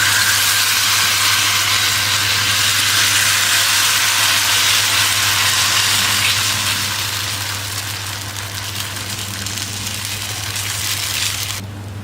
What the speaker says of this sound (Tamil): இப்போ நம்ம கோதுமை தோசை ஊற்றிக்கலாம்